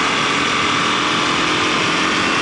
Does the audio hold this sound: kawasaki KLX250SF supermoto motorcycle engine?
yes